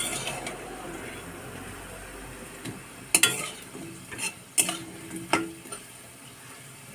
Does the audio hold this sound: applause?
no